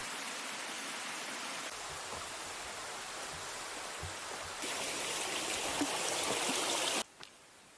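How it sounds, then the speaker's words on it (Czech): Waterfalls on the Hučava stream in the Hrubý Jeseník mountains, a steady broadband rush of falling water that swells louder partway through, then cuts off abruptly near the end. "která zde vytváří zajímavé vodopády"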